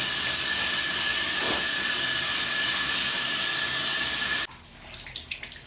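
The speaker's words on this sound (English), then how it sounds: "I'm just going to rinse them by hand really well and wring them out" Cloth diapers are rinsed by hand under a running sink tap, making a loud steady hiss of flowing water that stops suddenly, leaving a few soft wet handling sounds.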